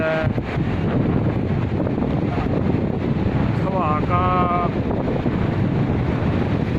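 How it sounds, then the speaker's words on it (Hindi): Strong wind buffets the microphone on a swaying suspension bridge at Naran Kaghan, a steady loud roar running throughout with a brief tonal whine partway through and possible voices buried beneath. "हवा भी बहुत तेज़ है"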